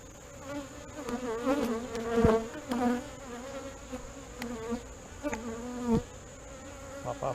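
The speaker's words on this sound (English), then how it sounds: "A lot of bees sitting right here." Honeybees buzz close by during a hive inspection, a dense, wavering drone with individual bees swelling past the listener and occasional sharper tones over the hum.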